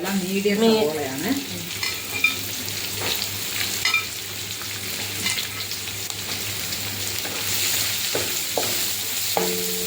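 Four chopped onions added to ginger and garlic frying in a pan for chana masala, a dense continuous sizzle with spatula stirring scrapes and a few clinks, close and with no talking.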